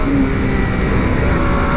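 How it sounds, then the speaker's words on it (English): A Triumph Street Triple RS motorcycle engine roars loud and steady under throttle, a dense continuous intake and engine sound close up without any voices. "the intake is so damn amazing, man"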